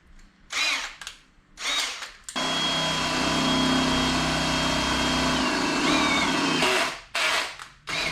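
A power drill bores a hole in a motorbike exhaust for a pop rivet: short whirring bursts, then a sustained high-pitched grinding run of about three seconds, followed by more brief spins.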